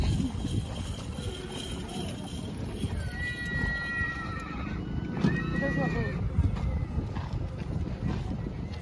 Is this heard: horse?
yes